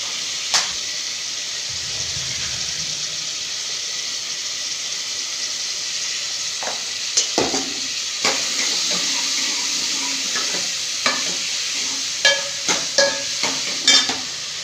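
Ginger and garlic sizzle steadily in a hot pan, with occasional clinks and scrapes of stirring growing more frequent toward the end.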